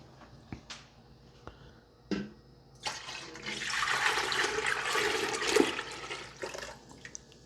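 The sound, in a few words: pouring chokecherry liquid back into a pot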